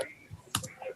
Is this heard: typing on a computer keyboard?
yes